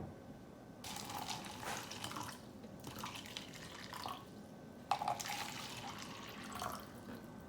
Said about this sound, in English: when I take us a little bit closer and I pour water inside